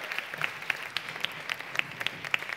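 An audience at a Lions talent event claps for the club president, a thin, quiet patter of separate sharp claps with a few louder hits standing out, no talk over it.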